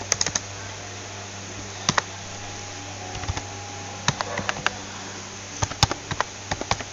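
Someone types on a computer keyboard in short irregular bursts of sharp, close clicks, with pauses between clusters over a low steady hum.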